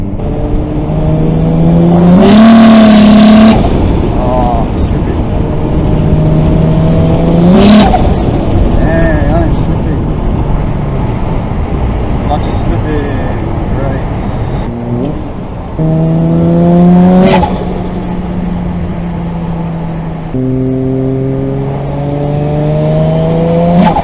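Toyota JZX100 with a slipping clutch revving and accelerating through several gear pulls, its engine note rising repeatedly and dropping between shifts, loud and close from inside the car.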